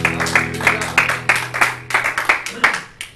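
A church congregation claps in a steady rhythm, roughly three claps per second, with sharp, close hand slaps that sound over a low held background tone.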